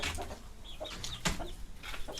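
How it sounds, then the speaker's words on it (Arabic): A Hejazi rooster clucks and calls close by in a rough, raspy rhythm of short bursts, with other farmyard noise around it. "ديك ده يا جماعه اسمه ابو العرب وصاحبه مسميه كده"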